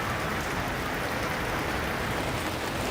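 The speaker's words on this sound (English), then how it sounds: "The thing is that since it's raining," Rain falling steadily outdoors at a theme park, a dense, loud, even hiss of drops that continues without a break and with no voices.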